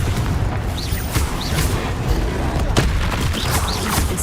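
A Confringo spell blast in the game Hogwarts Legacy sets off a flurry of booming, crackling explosive bursts amid busy combat effects, loud and dense over about four seconds.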